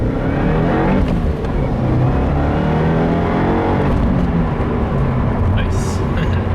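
A 2015 Subaru WRX with a Stage 1 tune accelerates hard in first gear, heard from inside, its engine note climbing in pitch as revs rise, loud and continuous with a brief dip before pulling again.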